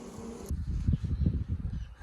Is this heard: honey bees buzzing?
yes